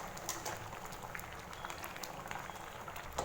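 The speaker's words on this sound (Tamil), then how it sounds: "ஒரு 5 நிமிஷம் நல்லா கொதிக்கட்டும்." Thick drumstick-leaf sambar bubbles and pops softly in a pot on high flame, a steady low simmer with scattered small bursts, heard up close.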